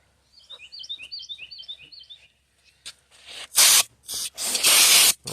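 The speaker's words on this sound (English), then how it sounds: "I've been spraying it down with brake clean" Brake cleaner sprayed onto a 1990 GMC Jimmy's fuel tank: faint chirping tones at first, then several loud, close hissing aerosol bursts of varying length in the second half.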